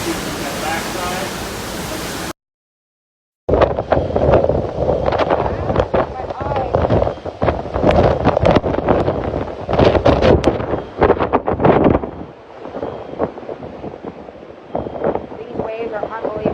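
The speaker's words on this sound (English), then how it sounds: "These waves are unbelievable." Floodwater rushes and churns in a storm in Florida, a loud, continuous roaring wash with heavy wind buffeting close to the microphone, while someone talks and exclaims over it.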